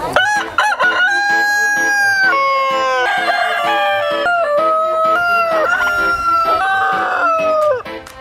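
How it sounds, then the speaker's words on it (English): A rooster crows loudly and close, in a long drawn-out call followed by more crowing and clucking that overlap. "Why don't people want roosters? They're too noisy for suburbia"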